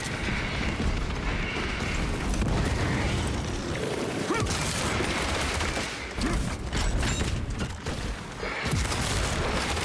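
Bolter gunfire in the video game Space Marine 2, a dense stream of heavy shots and blasts running almost unbroken, loud and close, with mechanical clanks and combat noise mixed in.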